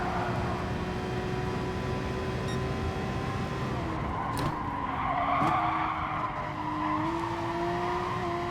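Race cars at Lago Maggiore West in GT Sport squeal their tyres in a long continuous skid over loud engine drone, pitch sliding and rising toward the end with a couple of brief sharp bursts.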